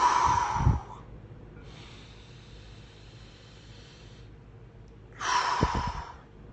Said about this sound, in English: just breathing really deep in the mouth or in the nose and out the mouth